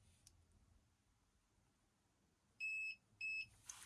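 A Dometic PLB40 portable battery pack gives two short, loud electronic beeps as it is switched on, the pair clearly separated over a quiet background.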